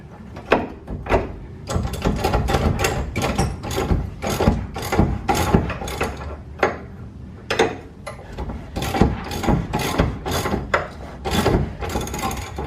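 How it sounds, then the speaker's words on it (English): Wrench working a seized bolt loose, a dense run of ratcheting, grinding metal clicks and rubbing scrapes in close, steady bursts with short pauses, loud and near throughout. "Just keep prying with a wrench"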